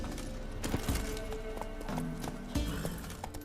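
Roach the horse's hooves clip-clopping in The Witcher 3, a steady close trot of repeated hoof knocks with a brief whinny and faint game ambience beneath.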